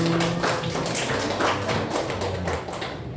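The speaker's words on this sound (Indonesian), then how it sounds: "Kita beri aplaus dulu Ibu." A seminar audience in a hall gives a burst of applause, dense steady clapping that stays loud for about three seconds before easing slightly at the end.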